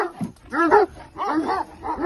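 Chained dogs, Panter-type breeding stock, bark in close, loud bursts, a quick series of deep woofs in uneven rhythm with a short yip at the start.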